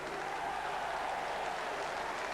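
Football crowd at Millwall's ground during a 1988-89 First Division match against Queens Park Rangers reacts to other results, a dense distant roar of cheering and applause that holds steady throughout at a faint level.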